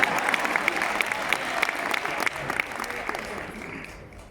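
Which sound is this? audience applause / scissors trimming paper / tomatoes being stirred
audience applause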